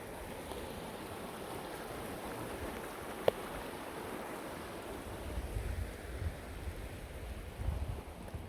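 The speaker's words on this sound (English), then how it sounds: "Nice little creek." Steady broadband wash of a small creek flowing outdoors, continuous and moderately loud with a brief sharp click midway and some low rumble toward the end; no voices.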